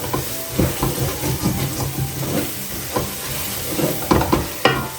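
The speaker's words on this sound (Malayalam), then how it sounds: "മല്ലിപ്പൊടി നന്നായിട്ട് അടിയിൽ പിടിക്കാതെ ഇളക്കി കൊടുക്കണം" Coriander powder frying in a pan for pork roast, stirred with repeated scraping strokes over a continuous hissing sizzle, close and fairly loud.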